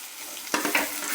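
Cumin, peanuts and coriander hit hot oil in a pan with roasted green chilies for Kolhapuri thecha, a brief close burst of steady sizzling broken by a quick stirring clatter.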